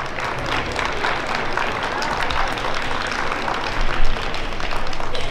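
Loud, dense audience applause at a Latin ballroom dance festival in Minsk, sustained for several seconds with a brief surge near the end.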